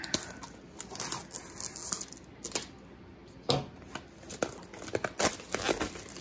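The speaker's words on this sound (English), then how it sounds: "I'm just going to cut the plastic off" Plastic wrap being cut and pulled off a Diamond Art Club kit: close crinkling and tearing with a few sharp snips and crunches, irregular and fairly loud.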